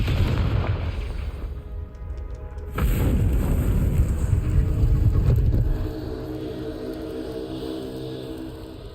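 A Confringo spell explodes with a deep booming blast in the Hogwarts Legacy video game on PS5, a loud low rumble lasting a few seconds before fading into quieter game ambience.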